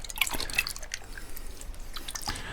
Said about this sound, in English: That water makes that little splash sound.